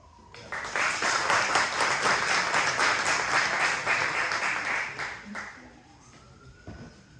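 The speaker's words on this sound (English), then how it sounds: "I'll have to ask you, no more clapping, okay?" Audience applause at a Sacramento District 2 city council candidate forum, a burst of clapping that swells quickly, holds steady for several seconds, then thins out and trails off.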